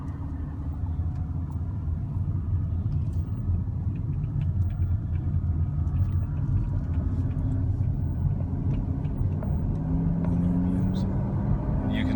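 A 2013 Camaro 2SS pulls up an on-ramp, its engine a steady low rumble with road and tyre noise that holds constant throughout, heard from inside the car.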